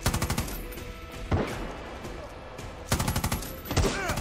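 Rapid automatic gunfire rattles in bursts during combat in the video game Far Cry 6, with loud clusters of shots at the start and again near the end.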